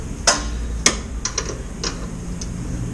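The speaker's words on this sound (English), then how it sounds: "Might work a little better with a ratchet." A ratchet wrench turns a fastener on a lawn mower deck's belt-tension lever mechanism, giving two sharp, close metallic clicks followed by several fainter, irregular ticks, with no talking.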